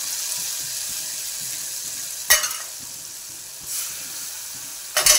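Masala with a splash of water frying in a pan for cauliflower sabzi gives a steady soft sizzle, broken by a few louder scraping stirs near the middle and end, with no one talking.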